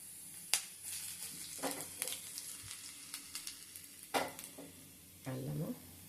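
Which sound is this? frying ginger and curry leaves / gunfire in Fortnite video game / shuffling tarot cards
frying ginger and curry leaves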